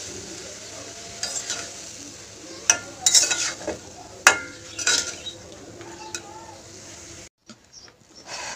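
Beetroot and cabbage fry in a pan in a home kitchen, with a low steady sizzle broken by several sharp scraping stir strokes and utensil clinks. A short pause comes near the end, then the sizzle resumes faintly.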